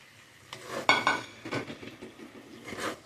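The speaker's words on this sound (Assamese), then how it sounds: "এতিয়া ইয়াতে মই বিলাহীখিনি দি দিম।" Chopped tomatoes tipped into a pan of nearly fried cauliflower and potatoes, giving a few sharp metallic clinks and clatters of utensil against pan over a soft background, with no voices.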